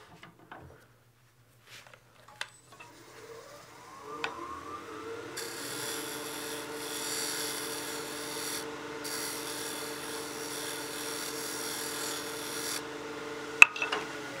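Wooden baby rattle on a lathe as a tiny amount of material is taken off: a few faint knocks, then the motor spins up into a quiet steady whir with a soft scraping cut and a sharp click near the end.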